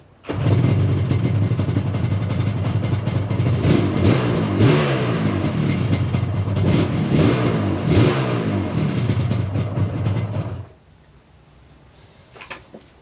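A Yamaha RD350LC two-stroke motorcycle with a manual choke starts and revs loudly and steadily for about ten seconds, then cuts out, leaving near silence with a faint knock at the end.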